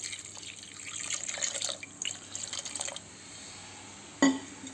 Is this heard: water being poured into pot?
yes